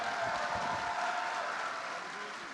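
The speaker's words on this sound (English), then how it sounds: "give a round of applause, you guys" A large convention hall audience claps and cheers in steady, dense applause at a Star Wars Celebration panel, sustained throughout with no break.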